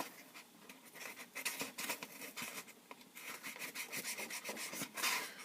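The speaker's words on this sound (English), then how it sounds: "As I shake the living heck out of the workbench here" A workbench is shaken hard, giving a loud, close, irregular rattling and knocking of wood and loose items in rapid bursts, with no talking.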